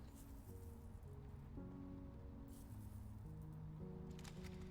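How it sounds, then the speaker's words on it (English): Very faint, steady rain patters in the background beneath soft, sustained musical tones. "If the rain noises are too loud."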